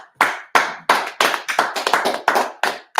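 A congregation at a Sabbath service claps in a loose, irregular rhythm, about ten sharp, loud bursts of many hands over three seconds, with no voices over it.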